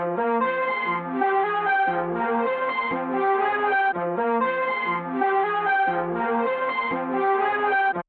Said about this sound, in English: The first sound that I started with was this arp.